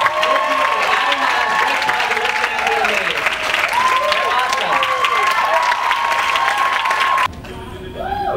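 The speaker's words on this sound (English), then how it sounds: "Applause for our committee." A college crowd at a student thrift-shop runway event applauds and cheers loudly, with whoops and voices over dense clapping, then the noise cuts down to a quieter room with a voice.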